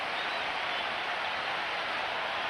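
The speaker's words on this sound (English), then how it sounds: "The crowd is willing it on." A cricket crowd at the Sydney ground during a one-day match between Australia and West Indies, a dense, steady roar of cheering and applause with no break, loud and continuous.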